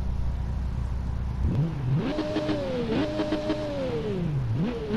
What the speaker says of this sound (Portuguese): Esse é o som dos três cilindros.